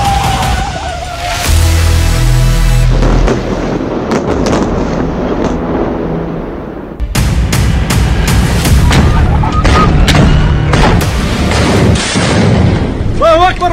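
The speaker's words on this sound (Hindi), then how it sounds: "बहुत से धमाके हो रहे हैं।" Explosions in the Gaza war: loud, repeated booms and blasts, close and heavy, with rumbling and sharp cracks throughout and a noisy chaotic background.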